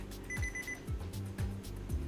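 A timer alarm beeps in a steady repeating pattern, fairly faint, over a low background hum.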